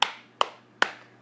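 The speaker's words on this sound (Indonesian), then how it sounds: "itu adalah tepukan tangan" Three sharp hand claps spaced evenly about 0.4 seconds apart, close and crisp, each fading quickly into quiet.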